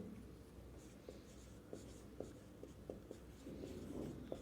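A pen or marker writes on a board during a math lesson, making soft scratchy strokes and small taps in an uneven rhythm, close and quiet, with no talking.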